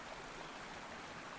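Steady rushing of flowing stream water in a video game, a soft continuous wash with no breaks and no voices.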